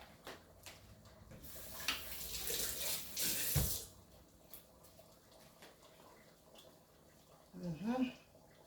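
Kitchen tap water rushes briefly as something is rinsed while cooking ginger dumplings, a soft splashing stream lasting a couple of seconds amid a woman's chatter and small clatters.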